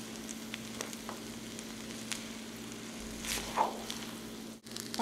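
Egg fried rice with soy sauce and vinegar sizzles in a hot pan, a steady close hiss with a few soft stirring scrapes and one louder swell near the end.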